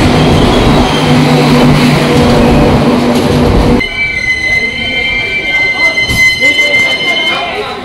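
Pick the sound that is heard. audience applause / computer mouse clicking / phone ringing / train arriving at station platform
train arriving at station platform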